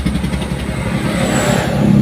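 A Toyota Kijang Kapsul carburetor engine revs hard at speed, a loud droning rumble that builds slightly in pitch and strength, heard from inside with no talk.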